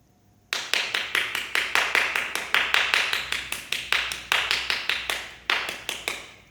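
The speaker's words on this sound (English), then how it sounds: "So the clapping happens when they find a little pocket of energy that needs dispersing" Steady hand clapping during a bodywork therapy session, a long run of sharp, evenly spaced claps close by with a few brief pauses, no talk over it.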